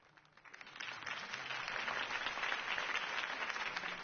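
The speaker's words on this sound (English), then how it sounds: "If only Mr. Wayne, my campaign's largest backer, could have heard that applause" Steady crowd applause in the video game Batman: The Telltale Series, following a campaign speech, swells in and holds, a dense patter of many hands clapping, with a faint voice buried underneath.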